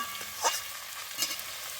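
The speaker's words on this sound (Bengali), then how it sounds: "মাংসটা এখন কষে নিচ্ছে।" Mutton being sautéed in a pan, a soft continuous sizzle broken by two brief scraping strokes of a spoon stirring the meat, close and fairly quiet with no voices.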